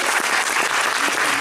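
An audience claps steadily throughout at a live venue, a dense, even burst of applause that stays loud and close for its short length.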